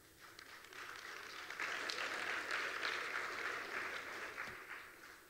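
A conference audience applauds: dense, steady clapping from a full room builds to a peak and then slowly fades over a few seconds.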